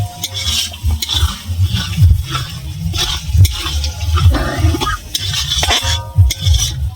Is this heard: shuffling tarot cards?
no